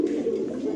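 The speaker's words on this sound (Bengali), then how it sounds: "কালার গ্রে বার একটা মুন্ডিয়ান মাদি কবুতর" A grey bar Mundian female pigeon coos in a close, continuous low purring warble that fills the brief moment.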